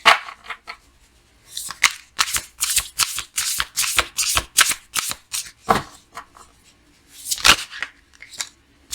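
Tarot cards are shuffled close up in repeated quick riffling bursts, crisp papery flutters separated by short pauses, loud and alone without any talking.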